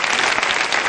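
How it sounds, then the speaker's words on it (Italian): A burst of applause from a wedding ceremony crowd, dense and steady clapping filling the short moment. "Un applauso."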